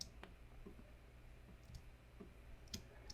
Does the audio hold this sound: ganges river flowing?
no